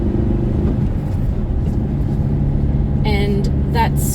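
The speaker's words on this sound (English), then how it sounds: "it doesn't have the power to keep up the speed going up this hill" A 2020 Great Wall Steed 2.4L petrol twin-cab ute with a five-speed manual drones steadily as it labours uphill, a constant low engine rumble filling the cab, while someone speaks briefly near the end.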